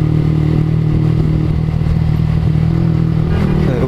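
Loud motorcycle with an aftermarket brong exhaust idles and revs close by, a deep throbbing drone with a strong low hum and slight rises in pitch, no talking over it.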